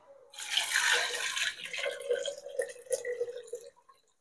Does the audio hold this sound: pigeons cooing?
no